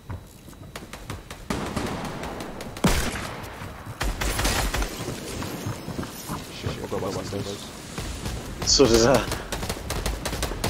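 Gunshots in an online shooter game, scattered sharp reports and bursts spread across the clip under frequent talking, with a louder cluster near the end.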